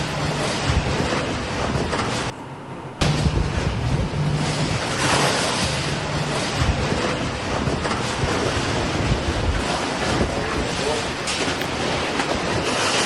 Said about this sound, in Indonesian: tiba-tiba muncul angin kencang disertai suara gemuruh